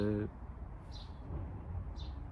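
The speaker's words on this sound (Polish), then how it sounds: "Słyszycie komentarz ptaków." Two faint, high bird chirps sound in the distance over a quiet outdoor background, shortly after a voice trails off.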